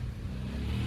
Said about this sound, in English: Nick's testing out the Big Red with the new carb